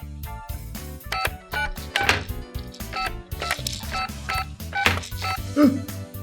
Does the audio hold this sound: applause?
no